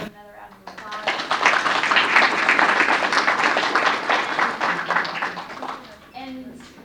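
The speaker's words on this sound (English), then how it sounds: "I think we can do another round of applause." An audience at a health and wellness event breaks into a sustained round of applause, loud and dense for several seconds before tapering off, with a voice speaking briefly as it fades.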